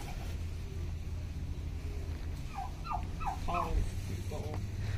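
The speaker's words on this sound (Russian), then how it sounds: "Ага, индюки." A few short, bubbling turkey gobbles ring out in quick succession over a steady low engine-like hum in the background.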